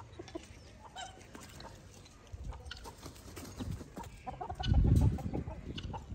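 Farmyard chickens and a rooster on a small farm in Ghana, scattered clucks and calls with some shuffling and a louder bump of movement near the end, fairly close with no talking.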